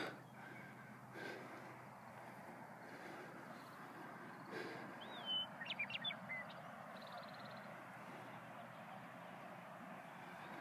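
A bird calls with a few short whistled and chirping notes against a quiet outdoor background in the Horseshoe Bend hills, Idaho, then goes silent again.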